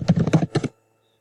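A quick flurry of about half a dozen computer keyboard keystrokes clicks close and crisp, then stops into silence.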